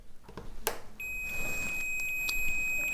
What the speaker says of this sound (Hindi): इसकी वैल्यू हम बजर मोड पे चेक करेंगे